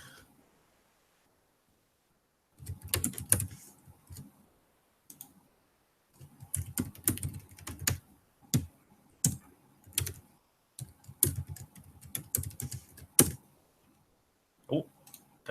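Bursts of keyboard typing clatter on a computer while setting file sharing permissions, close and fairly loud, coming in irregular runs of keystrokes separated by brief pauses, with a few isolated single clicks toward the end.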